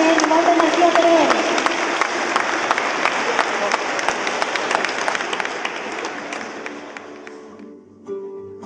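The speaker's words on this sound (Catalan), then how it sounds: "rebem amb un fort aplaudiment a la Coral del Terraferma" An audience at a children's and primary school choir gathering breaks into loud, sustained clapping that fades out near the end, leaving a brief quieter sound behind.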